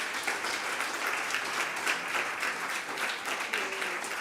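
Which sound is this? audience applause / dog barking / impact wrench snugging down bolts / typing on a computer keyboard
audience applause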